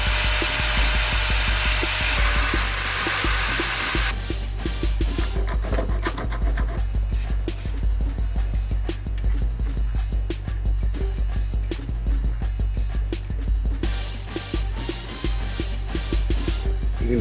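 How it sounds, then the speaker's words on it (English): An angle grinder grinds weld spatter off a steel steering damper for a Dodge Ram 4WD truck: a steady close-up whine with constant rough scraping, after a few seconds of a higher hiss at the start. "I'm going to grind off this weld splatter because I don't like it."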